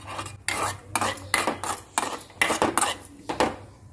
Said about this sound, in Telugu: ఇందులోనే కొన్ని గుమ్మడి గింజలు, కొంచెం సారపప్పు, కొన్ని గసాలు, జీడిపప్పులు వేయించుకొని వేద్దాము.